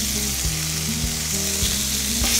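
Onion and finely chopped pepper sizzle steadily in a hot pan, with a constant close frying hiss and the occasional scrape of stirring running through it.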